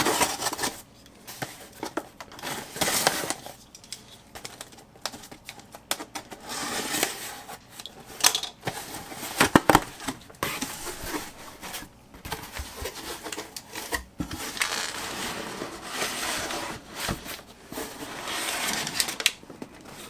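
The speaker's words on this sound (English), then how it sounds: "Alright, let's cut this box." An Amazon cardboard box holding a SmallRig RC 100B COB LED video light is cut open, giving scraping, slicing and rubbing noises in uneven bursts, close and fairly quiet.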